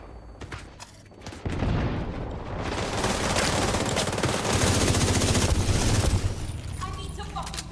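Machine gun fire in a video game builds into a sustained, dense stream of rapid shots with occasional booms. It runs loud through most of the clip, and a voice speaks over it.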